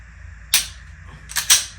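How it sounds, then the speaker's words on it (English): A single-action pistol loaded with a laser training bullet and magazine is cocked and dry-fired indoors, giving a sharp mechanical snap followed after a pause by a quicker double click-snap, close and crisp over a low room hum. "This one is a single action trigger, so I'm gonna have to cock it back on every shot."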